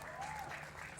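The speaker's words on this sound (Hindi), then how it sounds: "अनुज के लिए तालियां हो जाए।" Applause from a crowd at an on-ground press conference for the singing show Sa Re Ga Ma Pa, a steady dense patter of clapping filling the whole moment at moderate loudness.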